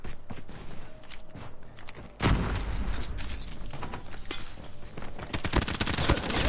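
Close-range automatic gunfire from a PP19 submachine gun in a video game, dense bursts of shots with mechanical clatter and movement noise, loud throughout and intensifying near the end.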